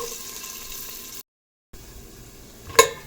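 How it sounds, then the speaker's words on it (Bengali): Cashew nuts fry in hot ghee with a soft, steady sizzle and some stirring. The sound breaks off into a brief silence, then the sizzle returns, ending with a sharper clatter near the end. "গোল্ডেন ব্রাউন করে হালকা ভাজবো"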